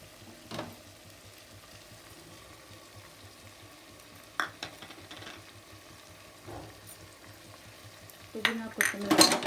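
Mushroom biryani masala frying in a pan gives a soft, low sizzle, broken by occasional scrapes and clinks of stirring that grow busier and louder near the end.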